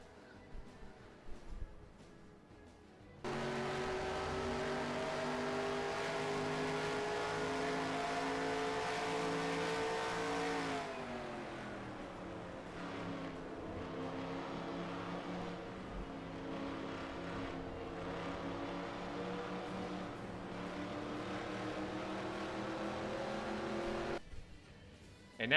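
A race car screams past during round 8 of the 2017 DuPont World Series of Racing in Japan, a loud sustained engine note climbing through the gears, a drop after a shift, then holding high before cutting off abruptly.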